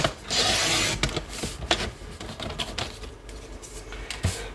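Paper for a scrapbook mini album is trimmed with a cutter, giving a long sliding cut followed by a run of sharp clicks and taps, close and moderately loud with no voices.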